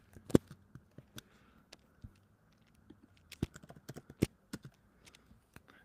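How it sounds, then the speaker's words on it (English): Light, irregular keyboard typing on a computer, scattered clicks of varying strength at close range over a faint background hum, with no speech. "I can hear your ticky typing"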